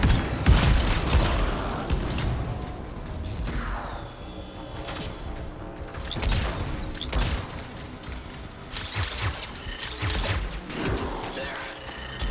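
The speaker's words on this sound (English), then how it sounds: "It'll be a contained explosion." A contained canister trap explosion goes off in the game Anthem, a dense crashing burst with rattling mechanical debris and whooshes that rolls through several loud swells, over a busy battle soundscape.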